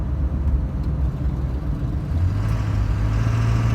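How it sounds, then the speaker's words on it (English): A 2000 Ford 7.3 Powerstroke diesel engine with injector dropout hums and whirs at low pitch while coasting, cutting out, its drone shifting slightly as the tone steadies near the end. "essentially it sounds like the engine cuts out"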